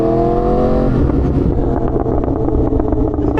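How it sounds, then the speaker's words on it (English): A motorcycle at a cars-and-coffee meet revs loudly and steadily up close, its roaring engine broken by a series of sharp crackling backfire pops toward the end. "My dad is shocked by the amount of backfires this bike has."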